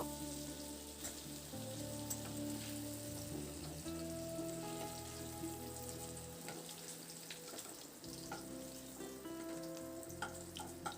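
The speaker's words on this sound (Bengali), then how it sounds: "দেখুন আলুটা দিয়ে কয়েক মিনিটের জন্য নাড়াচাড়া করে একটু ভেজে নিয়েছি" Potatoes stir-fried in oil give off a faint, steady sizzle with light crackling throughout, heard quietly and alone.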